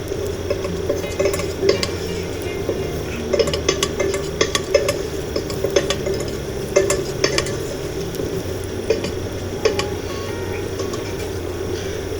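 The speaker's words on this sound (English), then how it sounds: "Give it a stir for about a minute." Oil is stirred in a cooking pan on a medium-high gas flame, a spoon scraping and clicking in irregular bursts over a low steady sizzle, close and fairly loud, no voices.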